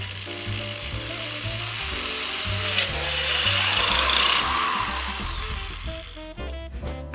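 A power drill bores slowly through a Christmas ornament, its motor whirring steadily up close while the bit grinds and rubs through the material, with a brief scraping rasp near the end.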